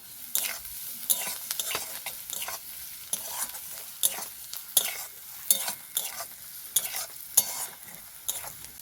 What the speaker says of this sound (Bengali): এভাবে ঘন ঘন নাড়তে থাকবো যাতে না পুড়ে যায়